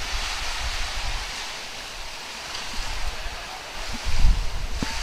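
Waves of the South China Sea wash onto a private beach near Hong Kong as a steady, broad surf hiss, with a slightly louder swell toward the end.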